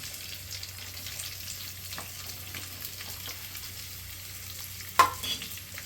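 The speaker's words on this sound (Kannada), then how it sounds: "ಆನಿಯನ್ ಫ್ರೈ ಆಗ್ಬೇಕಂದ್ರೆ ಚೂರು ಐ ಫ್ಲೇಮಲ್ಲಿ ಇಟ್ಕೊಂಡು ಫ್ರೈ." Onions frying in a pan over a flame: a steady soft sizzle with occasional stirring scrapes and a sharp clink near the end, no talking.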